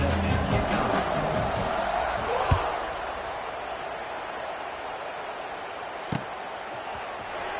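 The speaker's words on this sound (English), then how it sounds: "this crowd is buzzing after that last score" A football stadium crowd buzzes after a score in the UCF vs Kansas game, a broad, steady murmur that eases over several seconds, broken by a couple of sharp thuds, with commentary voices over it.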